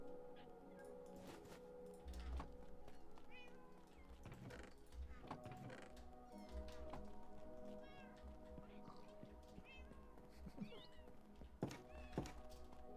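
Minecraft cats meowing in the game, many small high mews scattered over a busy background of game thunks and tones, with a voice talking underneath.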